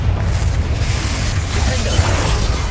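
A Confringo fire-blast spell bursting in the game Hogwarts Legacy, heard as a loud, deep rumbling boom that rolls on without a break for a few seconds.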